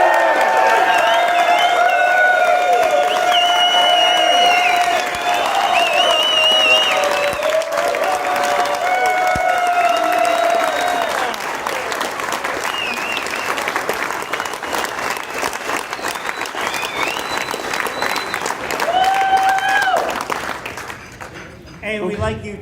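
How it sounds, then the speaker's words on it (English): A large audience at a reunion's final evening program breaks into loud, sustained applause with cheering and whoops for about twenty seconds, then the clapping thins and fades out near the end. "I'd like you to give them a boisterous round of applause."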